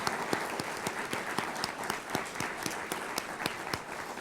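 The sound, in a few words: round of applause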